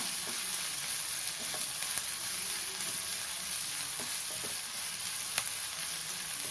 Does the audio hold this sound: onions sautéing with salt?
yes